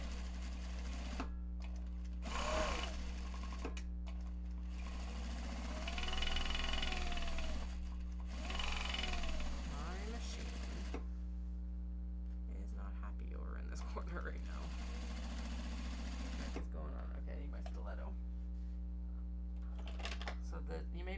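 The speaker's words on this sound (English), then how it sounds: "we're going to start sewing down here and on this side" A sewing machine stitches a custom bag made from Japanese fabric in several rapid whirring bursts separated by pauses, while a voice talks at times.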